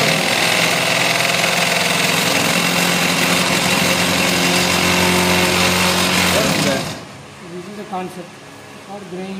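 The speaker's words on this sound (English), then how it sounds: "Concept for grinding the DC motor based solar power renewable based waste grinding machine." A solar-powered DC motor waste grinding machine, chewing food waste and dry leaves, drones loudly and steadily with a grinding hum, then stops abruptly, leaving quieter background sounds.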